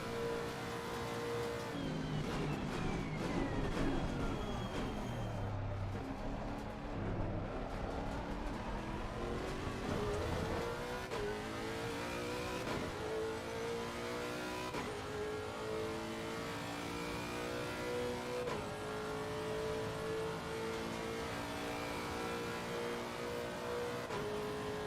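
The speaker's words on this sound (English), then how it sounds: "The engine sounds great though, in my opinion" A Lexus race car engine at Monza in Assetto Corsa Competizione revs up and down through gear changes, its rising and falling whine steady and prominent throughout, with no talk.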